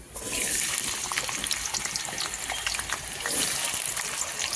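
Potatoes drop into hot mustard oil spiked with black cumin seeds in a kadai, setting off a close, loud, crackling sizzle that swells at once and keeps bubbling steadily.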